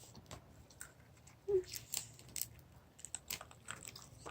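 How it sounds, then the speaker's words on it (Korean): Soft crisp crunching and biting of apple-flavored edible paper, a series of small brittle snaps close to the mic, with pauses between bites and no talking. "바삭바삭 바삭바삭하고 맛있어요."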